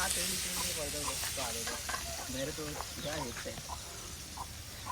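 Kupa fish frying on a hot tawa, a steady soft sizzle running throughout beneath continuous talking voices.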